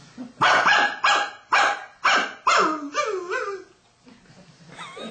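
A voice imitates a dog during a live comedy show in Houston, giving a quick run of five sharp rhythmic barks. A drawn-out whining howl follows, then a last yelp.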